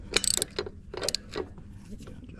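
A hand ratchet tightens bolts during a maintenance kit install on a Craftsman T240 riding mower, with a few short, close bursts of quick clicking separated by brief pauses.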